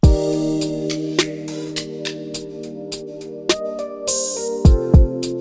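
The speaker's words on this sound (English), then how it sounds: "We had a kick and a snare" Kick drum and snare in a sparse emotional type beat, with a crash opening the section, snare hitting on the second and fourth beats and deep kicks landing occasionally, all over sustained keys and a steady hi-hat pattern.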